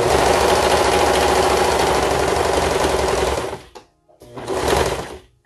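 A sewing machine stitches a baby romper with a loud, fast, continuous mechanical whir and needle chatter, stopping briefly before a second short burst of stitching.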